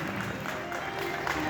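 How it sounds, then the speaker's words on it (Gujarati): Devotees at a religious gathering clap together to welcome Maharaj, a steady, dense spatter of applause from a crowd, with faint voices mixed in. "આપણે તાળીઓના કતલથી મહારાજજીનું જોરદાર સ્વાગત કરીએ"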